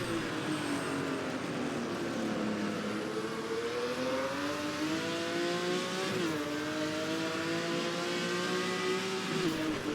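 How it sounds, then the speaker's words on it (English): A Jaguar XJ13 race car engine drones steadily while driving, its pitch gradually rising, dipping, then climbing again under load, loud and continuous throughout with no speech. "Its powerful engine sounds superb"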